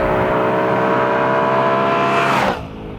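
Audi RS5 Cabriolet with a 4.2-liter V8 producing 450 horsepower, revving loud and close in a sustained, even bark that holds high for over two seconds and then drops off abruptly to a lower idle.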